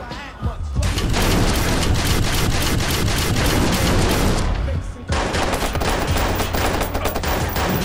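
Gunfire in the video game Watch Dogs, loud sustained automatic bursts and booming shots firing almost nonstop, with a brief break midway before the barrage resumes, voices faintly mixed in.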